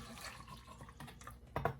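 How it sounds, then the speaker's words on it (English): Water poured from an MRE pouch into a French onion soup packet, a soft, continuous trickle under an outdoor hiss that swells into a brief, louder splash near the end, with no voices. "you can take your French onion soup and add in the rest of your water."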